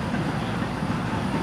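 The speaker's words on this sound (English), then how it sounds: "And then we'll watch this train notch back up." An FEC freight locomotive throttles up, giving a steady, loud, close rumble of diesel engine and rolling train with a dense low roar and no pauses, no voices over it.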